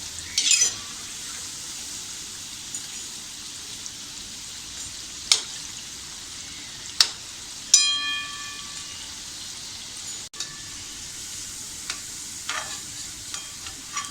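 Cabbage manchurian balls deep-frying in hot oil give a steady, even sizzling hiss that runs throughout, broken by a few sharp clinks and taps of a utensil.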